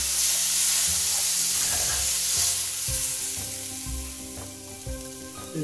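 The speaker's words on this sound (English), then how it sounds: "So you're going to sear the steak for about 2 minutes on each side." NY strip steak searing in a hot pan, a steady loud sizzle running the whole time with some stirring and scraping clatter layered over it.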